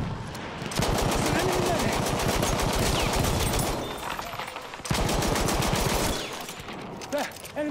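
Machine gun fire in a Battlefield video game, long dense bursts of rapid automatic shots, loud and close, with a brief gap between two sustained volleys and faint voices underneath.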